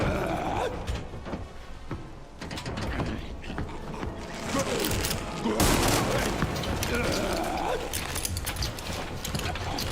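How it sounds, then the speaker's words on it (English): Rapid mechanical gunfire from a video game on Insanity mode, dense clattering bursts that swell and fade over a busy backdrop of game noise, with a voice talking in places. "Stop shooting!"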